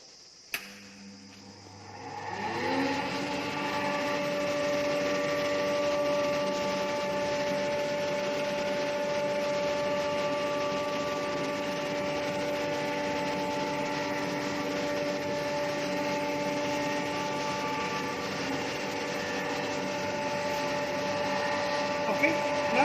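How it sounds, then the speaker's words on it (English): A pin fin apparatus air blower starts up after a brief pause and then runs at a steady, even drone with a constant tonal hum, continuing unchanged at moderate loudness for the rest of the clip. "Okay, I will start the blower now."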